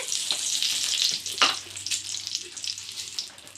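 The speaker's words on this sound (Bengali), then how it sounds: "এবার আমি ডাল সম্বার করে নিচ্ছি মুগ ডাল একটা তেজপাতা দিয়ে দিচ্ছি" Hot oil sizzles as moong dal is tempered with a bay leaf, a soft frying hiss with a couple of sharp crackles and light stirring close by.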